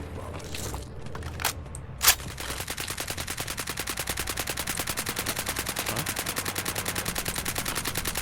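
Video game gunfire in Fallout 4's Nuka-World: a few scattered sharp shots are followed by a long, rapid burst of automatic gunfire, steady and relentless, loud and close with no voices.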